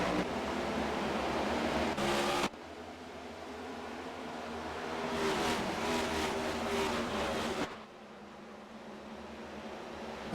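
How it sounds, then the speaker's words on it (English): Race cars accelerate away at the green flag of an oval stock car race, a sustained roaring engine drone heard from a broadcast, with abrupt cuts changing the level and tone. "Cars zoom off in 1 and 2 here."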